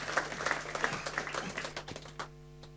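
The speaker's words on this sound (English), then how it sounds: "And once again, applause, please." Audience applause fills the room at the opening of the CEBioForum 2024 conference, a steady patter of many hands over a low hum, tapering off near the end.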